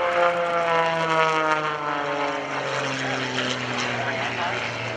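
An aerobatic propeller airplane engine drones loudly and steadily at an airshow at NAS Oceana, its pitch sliding slowly downward as the plane maneuvers, with no voices audible.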